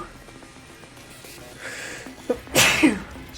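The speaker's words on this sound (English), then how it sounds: "Sorry, sneeze break." A single human sneeze, close and loud, with a brief inhaling buildup before the sharp burst near the end, set against quiet background sound from the video game Wolfenstein.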